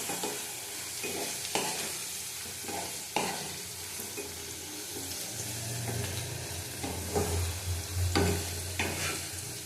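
Potatoes seasoned with turmeric and salt fry in hot oil for a prawn curry, giving a steady sizzle with spatula scrapes and stirring knocks close by and no talking.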